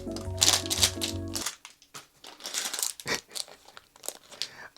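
A plastic bag from a crime-scene model-building set is torn open and crinkled close by at the start, followed by softer rustling and handling, with brief music fading under it early on.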